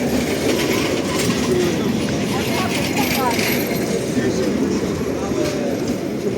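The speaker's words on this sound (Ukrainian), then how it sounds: "трамвайчик поїхав." A tram rumbles past close by at night on Ruska Street near Rynok Square in Lviv, with rattling wheels and a steady mechanical roar, street noise and faint voices around it.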